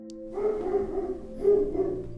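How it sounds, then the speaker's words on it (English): Several dogs bark off to one side outdoors, loud repeated yaps in two rough bursts, with no talking. "And now I have a bunch of dogs barking to the left of me."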